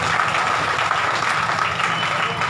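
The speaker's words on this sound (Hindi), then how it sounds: "एक बार ताली बजाया जाए विधायक जी के लिए।" An audience claps steadily and densely throughout, honouring the local MLA at a Maharana Pratap statue unveiling ceremony in Chhirha, Bemetara district. Some voices blend into the applause.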